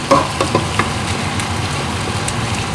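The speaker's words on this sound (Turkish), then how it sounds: "Kavrulsun iyice maydanozunu, cevizini," Minced meat with suet, parsley and walnuts sizzling as it roasts in a pan for stuffed kibbeh, a steady fry with occasional stirring scrapes near the start.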